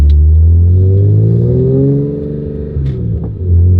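A BMW M3 GTR with a swapped-in V8 is driven gently while warming up, its engine giving a loud, close, steady low drone that dips and rises slightly with the throttle, with no voices.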